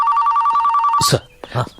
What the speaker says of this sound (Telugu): బాబు ఫోన్ నుంచి కాల్ వస్తుంది